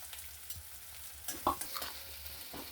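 Chopped onion frying in oil in a kadhai, with mustard seeds and cumin already crackled in: a soft, low sizzle broken by a few clinks and scrapes of stirring, close and quiet, with no talking.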